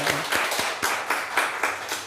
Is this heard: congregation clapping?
yes